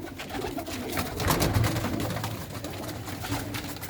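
A prize-winning female pigeon with white eyes, being handled, cooing low amid crackling, rustling handling noise, with a louder swell in the middle.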